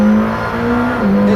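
A McLaren Senna supercar at speed on a track gives a loud, close engine note that holds a sustained pitch, dips briefly as if shifting, then pulls on strongly.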